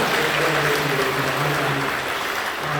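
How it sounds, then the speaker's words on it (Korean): A church congregation claps in welcome, a steady spread of applause with a low sustained tone running beneath it. "박수해 주시면 고맙습니다"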